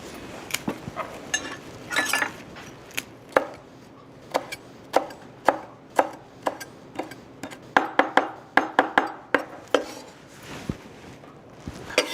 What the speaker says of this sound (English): and some basil. We just chop up some